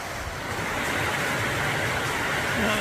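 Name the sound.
flowing stream water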